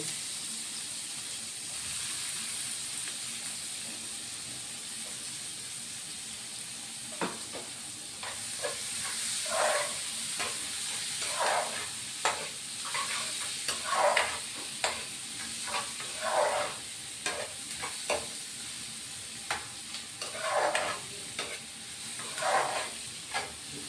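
Onions go into hot oil and are stirred, producing a quiet, steady sizzle broken by repeated scraping stir strokes that grow more frequent toward the end, with no talking.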